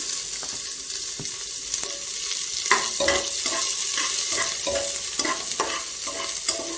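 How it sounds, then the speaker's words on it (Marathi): Onion frying in a pan with green chillies for dal khichdi, a steady close sizzle with repeated spatula scrapes and taps roughly every half second. "कांदा पण आपण थोडा वेळ फ्राय करून घेणार आहोत।"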